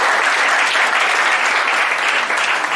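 Loud, steady applause fills a church as the congregation claps together throughout, dense and close with no break.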